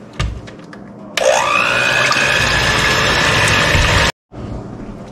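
An electric mixer blends Eagle Brand milk and cold water in a large mixing bowl, starting as a loud, steady whirring drone with a rising whine after a brief knock, then cutting off abruptly and restarting.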